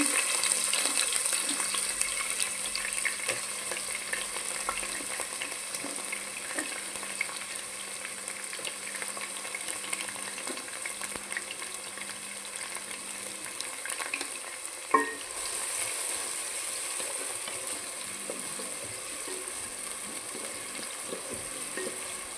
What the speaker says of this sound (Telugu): ఆయిల్ ఎక్కుతుందండి ఇప్పుడు మనము ఒక పచ్చిమిరకాయ వేసేసుకుందాం